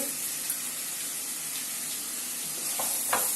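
Mustard seeds sizzle in hot oil for an eggplant curry, a steady faint hiss throughout with a couple of brief crackles near the end, no talking.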